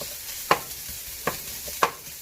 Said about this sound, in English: Now when you're cooking your chorizo, just want to make sure it's cooked enough that you can eat it.